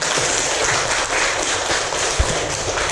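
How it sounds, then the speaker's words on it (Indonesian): Students in a classroom clap together at the close of a lesson, a brief, steady patter of many hands lasting a few seconds. "Tepuk tangan untuk kita semua."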